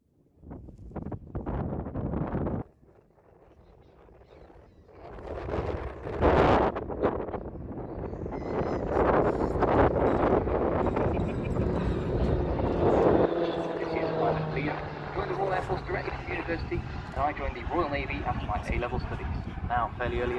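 A Eurofighter Typhoon fast jet flies a high-G turn during a display at the 2019 Southport air show, its loud, sustained roar rising after a brief lull and carrying on with heavy wind buffeting across the microphone.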